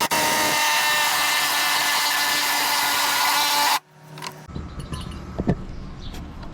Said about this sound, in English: It looks like this hole's deep enough, or the hole saw's deep enough. We're making a good dent in there.